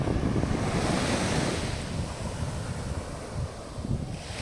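Waves wash in on Mae Nam Beach, Koh Samui, a continuous broad surf roar mixed with gusty wind buffeting the microphone, fairly loud and steady with no talking.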